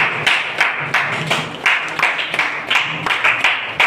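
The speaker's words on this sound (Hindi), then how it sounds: "एक जोरदार तालियां दोस्तों, तालियां झुकने नहीं चाहिए" An audience claps loudly at a wellness company's venue program in Ghazipur, the applause coming in uneven, rhythmic bursts that swell and dip over a few seconds.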